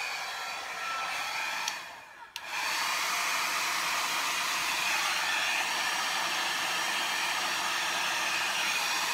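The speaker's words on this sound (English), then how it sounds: "blow dryer is just not very powerful." A weak blow dryer roars steadily over wet acrylic pour paint in greens, a broad constant whoosh that cuts out briefly near the start and then runs on unbroken.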